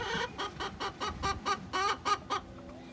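Hens clucking in a quick, regular series of about a dozen loud calls, close by, with no talking.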